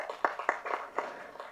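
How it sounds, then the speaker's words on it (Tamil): A small, thin round of clapping at a film audio launch event, a few scattered hand claps in quick irregular succession, faint and brief. "அவங்களுக்கு முதல்ல ஒரு கைத்தட்டு பாராட்ட தெரிவிச்சுக்கலாம்"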